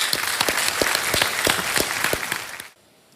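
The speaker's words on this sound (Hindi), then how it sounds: "ताली बज जाए इनके लिए" Studio audience on a televised quiz show breaks into steady applause with a few sharp accented claps, then cuts off abruptly to near silence.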